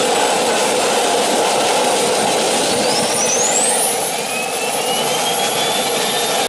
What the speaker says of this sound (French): les mecs, ils ont mis une turbine à gaz d'hélicoptère dans une moto